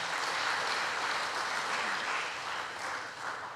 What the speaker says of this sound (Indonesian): Kita beri tepuk tangan lagi